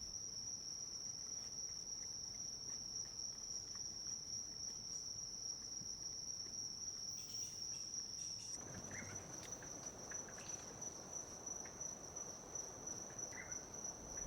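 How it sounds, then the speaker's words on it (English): A continuous, high-pitched cricket-like insect chorus fills a Central American forest, steady and moderately faint, with a second layer of insect buzzing joining partway through. "Other fascinating creatures found in the forest, if one looks hard enough, are insects of various shapes and colors."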